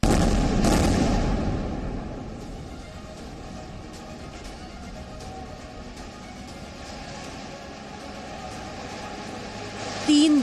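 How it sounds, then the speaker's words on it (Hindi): A loud, booming air-strike explosion in an Israeli attack on Palestine, followed by a long, lower rumble with faint crackling that fades but never fully dies away. "तीसरा धमाका।"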